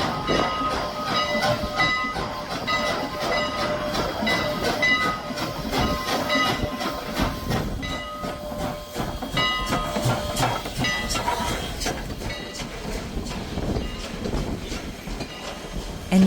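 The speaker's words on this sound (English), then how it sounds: "we were very excited to be treated to the number 89 steam locomotive" Strasburg Rail Road steam locomotive No. 89 and train rumble past with a steady roar, rhythmic clickety-clack of wheels on rails and hissing, loud and close for a long stretch.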